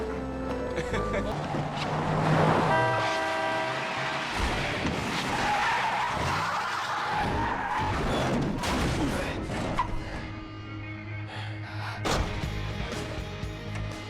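Car tires skid and squeal under hard braking, a loud sustained screech with engine and impact noise throughout a dramatic movie scene, alongside voices and background music.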